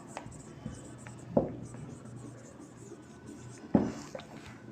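Pen or chalk writing on a surface during a Bengali-language English lesson, with soft scratchy strokes and two sharper taps standing out above a low steady background hum.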